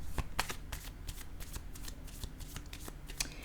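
Playing cards being shuffled for a card game, a steady riffling rustle of repeated crisp flicks running throughout, fairly close and alone without speech.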